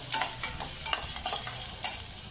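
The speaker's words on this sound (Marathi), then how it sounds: "मस्त कांदा 2 मिनिटं परतून घ्यायचा आहे" Onion being sautéed and stirred in a pan while cooking kurdai bhaji, with a steady low sizzle broken by several scraping stirs of the spoon close by.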